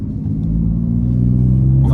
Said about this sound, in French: le doux son mélodieux de ce moteur